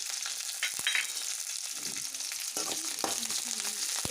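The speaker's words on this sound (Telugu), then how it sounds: "ఉల్లిగడ్డలు పచ్చిమిర్చి కరివేపాకు వేసుకున్న తర్వాత పల్లీలు" Peanuts frying in oil with onions, green chilies and curry leaves for upma, a steady close sizzle with occasional spatula knocks and scrapes against the pan.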